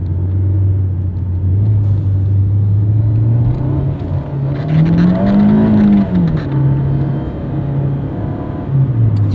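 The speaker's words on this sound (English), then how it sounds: "The owner actually added a blow-off valve aftermarket." A 2017 Fiat 124 Spider engine fitted with an aftermarket blow-off valve, driven gently: a steady, close, low engine drone whose pitch rises and dips slightly mid-run, with no talking.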